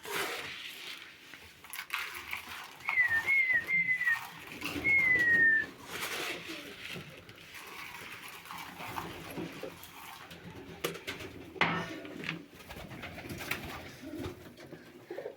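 Pigeons in a loft with nests, soft cooing and a brief burst of bird calls heard close amid quiet rustling and faint indoor noise, with occasional light knocks.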